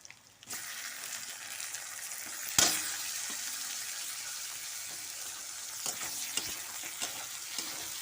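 Chopped tomato with spices frying in hot oil in a pan for broccoli curry, a steady, close sizzle with a loud clatter early on and a few light stirring knocks later.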